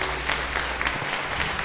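A church congregation applauds during worship, with dense, continuous clapping from many hands that stays loud and close for the whole stretch.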